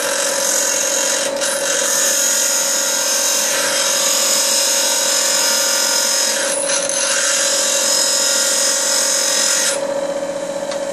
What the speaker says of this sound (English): grinding is obviously a very exciting thing to do